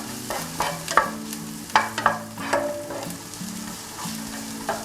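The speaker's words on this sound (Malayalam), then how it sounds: "ഈ സവാള വഴറ്റാനായിട്ട് ഞാൻ ഇതിലേക്ക് കുറച്ച് ഉപ്പ് ഇട്ട് കൊടുക്കുന്നുണ്ട്" Sliced onions sautéing with salt in a pan for chicken biryani give a continuous sizzle broken by repeated stirring scrapes and clicks, close and fairly loud, with no voices.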